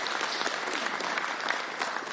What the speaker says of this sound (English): a round of applause for Senator Kuderer